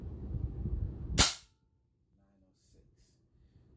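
A single sharp crack from a Spa P12 bullpup air rifle fired from a full tank, close and loud after low background rumble, decaying quickly into near silence with faint handling noises afterward.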